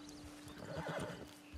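A Black Overo Mustang horse in the Red Dead Online game lets out a short, close whinny with a few hoof clops, heard alone in a brief burst.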